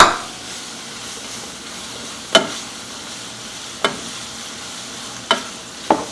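Orange, yellow and red bell peppers and shrimp sizzle in a pan, a steady close frying hiss punctuated by four sharp taps of a utensil against the pan, with no talking.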